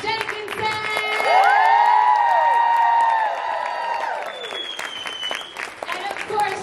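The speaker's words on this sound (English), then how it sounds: "Keep that applause going, everybody, for Kate Jenkinson!" Convention audience claps, cheers and whoops for an actress on a fan panel, loud sustained applause with voices and sustained tones over it, easing slightly toward the end.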